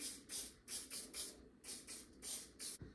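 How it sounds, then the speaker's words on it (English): A series of short, close hissing spritzes from a spray bottle of hair spray, about eight quick bursts in an even rhythm, with no talking. "spray lightly."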